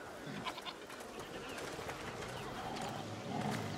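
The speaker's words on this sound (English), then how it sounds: "What's over there? Goats!" Goats bleat faintly in a festive village scene in the video game A Plague Tale: Requiem, the calls half-buried under a dense wash of crowd and ambient background noise throughout.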